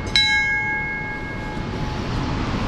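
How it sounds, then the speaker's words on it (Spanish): A bell at Devon Falls in Sri Lanka struck once, a bright clang whose clear ringing tone lingers and fades over steady rushing waterfall noise. "Vamos a tocar la campana, que nos dé buena suerte."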